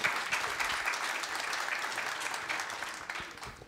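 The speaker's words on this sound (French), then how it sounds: "je vous remercie de les applaudir." A crowd claps steadily and densely for several seconds, the applause holding at an even level throughout.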